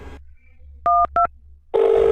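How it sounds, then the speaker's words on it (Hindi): A telephone number is keyed in: two short, loud keypad tones in quick succession against a quiet room hum, then a sustained phone tone starts near the end. "मेरी गर्लफ्रेंड को फोन लगा"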